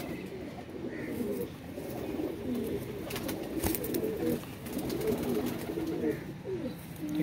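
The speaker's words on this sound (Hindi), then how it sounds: "ये है जी इस कबूतर की फीमेल" Domestic pigeons, a kept pair with the female among them, coo in soft low repeated rolls that carry on steadily at close range, with faint background noise.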